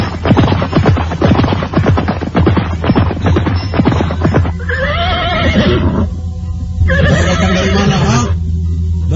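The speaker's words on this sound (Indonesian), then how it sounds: "dari jauh dia mendengar derap kuda mendekat." Horses approach at the foot of Mount Welirang around dawn, with loud, drawn-out whinnies rising twice over a steady rumbling background, after a busy stretch of dense sound.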